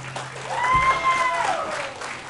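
A seminar audience in a hall breaks into fuller, more energetic applause. Dense clapping fills the room, and a thin whistle-like tone rises briefly above it.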